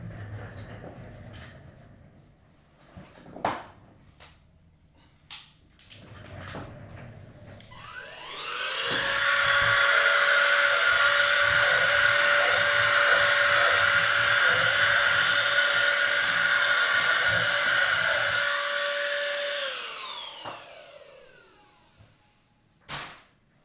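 A shop vacuum cleaner is heard after a few knocks and handling noises. It spins up with a rising whine, runs as a loud steady roar for about ten seconds, then winds down and stops.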